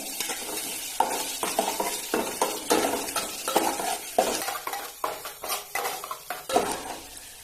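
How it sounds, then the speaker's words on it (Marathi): Chopped onion frying in oil in a small ladle for a tempering, with close, irregular clinks and scrapes of a spoon against metal over a light sizzle. "पळीवर तेल घेतलंय फोडणीसाठी कांदा घेतलाय"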